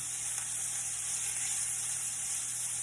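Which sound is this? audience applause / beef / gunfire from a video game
beef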